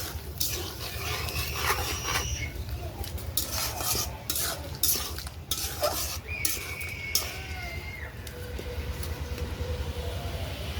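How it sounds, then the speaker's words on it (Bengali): Chicken meat is stirred and fried in a pot, giving a steady sizzle broken by repeated scraping and clattering stir strokes close by, with no talk. "এখন আমি এবার একটু নেড়ে চেড়ে দিচ্ছি। মাংসটা এখন আমি কষাইতেছি।"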